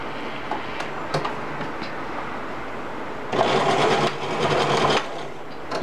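A sewing machine stitches straight across the top seam of a child's dress-up apron, where the ribbon casing goes, with a steady mechanical whir that grows louder and denser in a sustained burst partway through.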